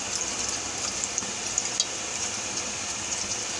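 Boondi for laddu fries in hot oil, giving a steady, close, even sizzle across the whole stretch with no talk.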